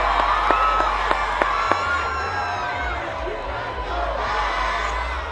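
An irate football crowd at a high school game roars and shouts continuously, with whistle-like whoops and a sustained low rumble throughout.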